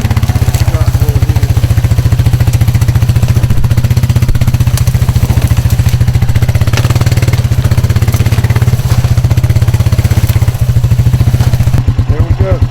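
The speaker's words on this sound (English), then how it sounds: "we're gonna go in here with the four-wheeler" Four-wheeler ATV engine running close during a hog hunt, a loud steady chugging drone with rattling clatter throughout, and people talking over it.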